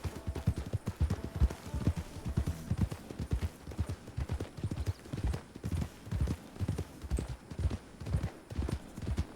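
Horse hooves clip-clop steadily in a Western roleplay video game as the horse is ridden at a walking pace, an even, repeating rhythm of close, clear hoofbeats lasting throughout.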